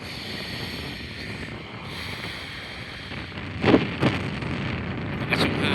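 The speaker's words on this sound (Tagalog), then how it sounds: "Lakas yung hangin." Strong wind buffets the microphone in a steady roar on a roadside hill in Montalban, Rizal, with a few louder gusts swelling near the end; no one talks.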